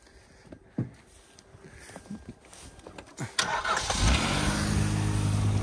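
A Hyundai car engine turns over with a few short cranking bursts, then catches and settles into a loud, steady running idle close by.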